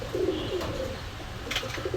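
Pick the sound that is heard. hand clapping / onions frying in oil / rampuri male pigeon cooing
rampuri male pigeon cooing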